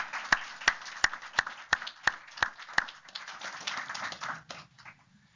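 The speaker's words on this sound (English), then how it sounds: "let's give them another round of applause" Audience applause after a talk on deep brain stimulation: a run of evenly spaced, sharp single claps grows into brief, dense clapping that quickly dies away.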